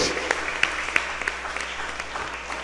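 Scattered clapping from a small church group, fairly quiet and uneven, with sharp individual claps standing out over a soft room background.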